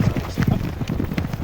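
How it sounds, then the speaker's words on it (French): Racehorses gallop through a cross-country course at the Grand Cross de Vittel, their hoofbeats a steady, rapid drumming of clip-clop thuds, fairly close and continuous across the short stretch. "Jolie Girl galope en 4ème position"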